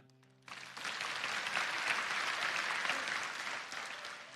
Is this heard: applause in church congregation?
yes